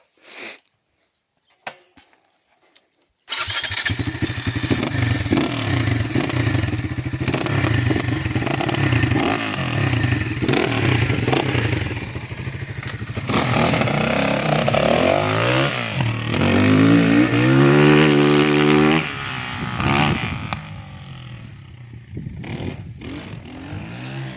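A Kovi 300 Pro R motorcycle starts after a few quiet clicks, then its engine runs loud and close, revving and rising in pitch as it pulls away with sweeping acceleration before fading toward the end.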